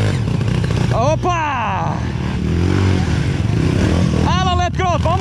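Trail motorcycle engine at a trail riders' meetup in Bom Retiro do Sul, RS, Brazil, a loud, close, continuous engine drone throughout, with people shouting and talking over it.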